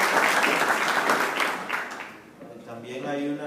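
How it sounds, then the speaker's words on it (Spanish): An audience at a church gathering breaks into warm, sustained applause that fades after a couple of seconds, followed by a voice speaking. "Démosles un aplauso"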